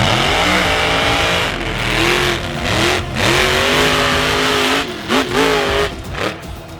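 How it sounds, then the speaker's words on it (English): A 1941 Willys monster truck with a 540 big block Chevrolet engine at a monster truck show, revving loudly and close in repeated rising and falling surges, with brief drops between the bursts. "1941 Willys with a 540 big block Chevrolet built by Richard Midget."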